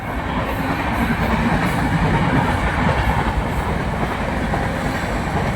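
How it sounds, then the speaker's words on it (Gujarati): A train rumbles past continuously and loud, a steady roar of wheels and carriages with faint rhythmic clatter, no voices. "હા વિક્રમભાઈ પહેલી વાર રેલવે રેલગાડી જો હશે"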